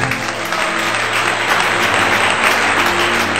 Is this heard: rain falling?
no